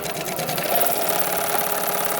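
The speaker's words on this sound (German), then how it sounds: "Und da muss dann die Nähmaschine drüber kommen." An industrial sewing machine stitching through eight layers of denim for a pair of jeans, a loud steady whirring mechanical drone with a rapid needle rhythm and no talking.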